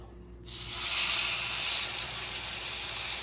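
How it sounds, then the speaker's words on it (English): A loud, bright sizzle bursts in after a short quiet as steak hits a hot pan, then hisses steadily close by. "you hear all that sizzling?"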